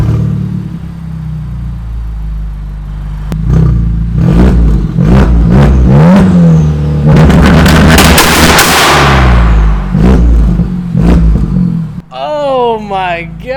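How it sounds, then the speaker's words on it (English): A car exhaust revs hard and loud in repeated bursts of rising and falling engine roar, very close, with people talking and exclaiming over and around it before it ends. "can we get an exhaust clip?"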